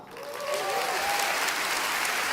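Church congregation clapping in a round of applause, a dense continuous patter that swells up in the first half second and then holds steady and loud, with a faint tonal sound in the background.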